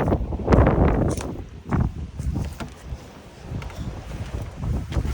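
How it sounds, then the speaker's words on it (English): Strong wind buffets the microphone outdoors beside a truck and a Cat 299D3XE track loader. The gusts rumble loud and close in uneven surges, with rustling mixed in, and no one speaks. "It is just insanely windy."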